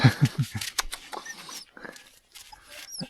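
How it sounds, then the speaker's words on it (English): A curious puppy on a roadside in Mongolia gives a quick run of short, close yips and whimpers, followed by fainter squeaky whines and some rustling. "Hello puppy, you're very curious."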